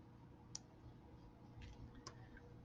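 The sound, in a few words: wire cutters snipping excess beading wire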